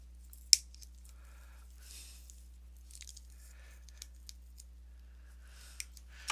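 Scissors snip through sparkly craft wire: a sharp single cut near the start, soft rustling handling, and another crisp snip at the very end, close and quiet otherwise.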